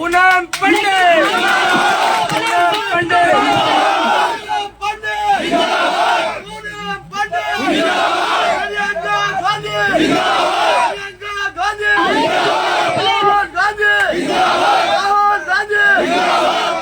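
Crowd at a Congress political rally in Faridnagar, Ghaziabad, chanting slogans in loud, rhythmic bursts of massed voices that repeat throughout, with shouted cheers rising over the sustained roar of the gathering.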